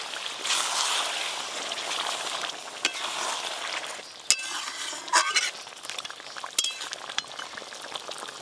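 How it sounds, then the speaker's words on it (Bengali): Braised meat sizzles and bubbles in a pan as a little water is poured in, a close crackling fry with stirring clinks and scrapes that quiets and breaks into sporadic pops. "এবার অল্প একটু জল দিয়ে দেবো।"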